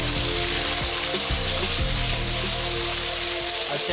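Onions and chopped tomatoes sizzle and crackle loudly in a pan while cooking matar gosht, a constant dense frying hiss with occasional stirring scrapes underneath.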